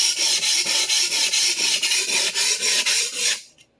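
A Clyde Cutlery chef knife scrapes back and forth across a sharpening stone in a quick, even rhythm of about a dozen close, gritty strokes, then stops abruptly.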